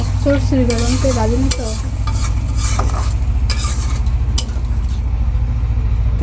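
Chicken frying in a pan in a village kitchen, with steady stirring scrapes and a continuous sizzle close up, while a voice sings or hums briefly near the start.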